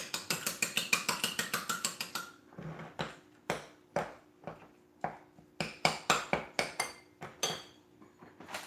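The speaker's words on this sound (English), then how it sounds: "Just gonna beat them a little bit." A fork rapidly beats two eggs in a bowl, first as a fast run of sharp clinks against the bowl, then as slower, spaced single taps and short bursts of clatter, close and clear with no talk.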